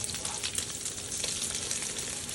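Crab cakes and bacon sizzle and crackle steadily in a hot frying pan, a dense hiss with small popping bursts throughout.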